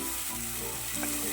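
Powdered masala frying in hot oil in a claypot for mackerel fish curry, a steady close sizzle with faint stirring scrapes and no voices.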